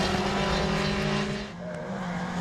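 Race cars of the 2016 MG Trophy Championship roar past on the Donington Park circuit, loud sustained engine drone with a slight tire squeal, fading a little toward the end.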